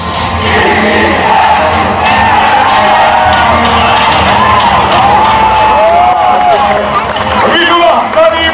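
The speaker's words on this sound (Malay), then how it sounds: "Kita berikan tepukan lagi sekali kepada timan" A large outdoor crowd at a military parade rehearsal cheers and applauds after an unarmed combat display, a loud, continuous wash of claps and shouts with whoops and children's voices, under announcer-style talk.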